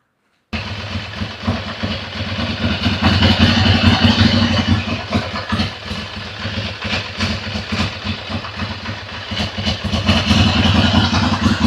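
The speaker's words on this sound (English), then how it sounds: "Now it idles up when you turn to the left." A Ducati Monster motorcycle engine idles nearby on a workbench, a steady loud rumble with uneven pulsing that swells slightly toward the end, no talking over it.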